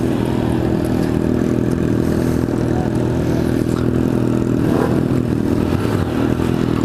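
Motorcycles on a night ride with friends, including a CB300, a Ninja and a 2014 Fan 150, their engines droning loud and close with a steady mid-pitched rumble and mild revving throughout.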